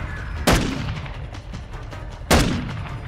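Two loud, close gunshots in the video game Call of Duty: Modern Warfare II, about two seconds apart, each followed by a short rumbling tail over low background noise.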